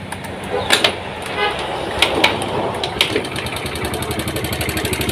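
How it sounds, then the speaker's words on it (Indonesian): A Yamaha Mio scooter with a badly serviced carburetor and an ignition fault runs close by, its engine revved in a few sharp bursts before dropping into a rough, pulsing putter, with a voice speaking over it. "Ini hidup, setelah digas dia mati."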